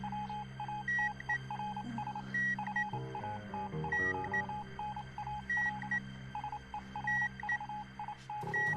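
An incoming radio telegraph signal in a wartime spy drama: clipped, rhythmic Morse-style beeps repeat steadily over a humming radio background, with lower tones shifting underneath.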